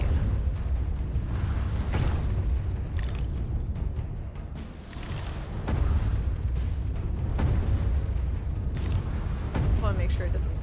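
Cannon blasts in a video game, several deep booms and bursts recurring through a dense, loud game soundscape with a speaking voice on top.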